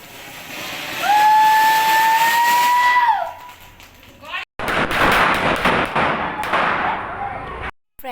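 Diwali firecrackers go off after a home puja: a shrill whistling tone for about two seconds, then dense crackling bursts and sharp pops close by, with voices mixed in.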